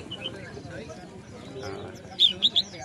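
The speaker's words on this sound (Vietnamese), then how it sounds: "Phía sau này có một đôi vành khuyên" A pair of white-eye birds at a busy bird market gives a few short, high chirps near the end, over a steady murmur of crowd and other birds.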